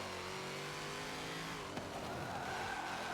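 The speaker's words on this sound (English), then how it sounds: "Oh, say, can you see the Corvette flying past?" Race car engine from a Corvette in the racing game Forza Motorsport 7 roars steadily, with a brief sharp passing burst midway, then a rising whine as it accelerates away, no talking.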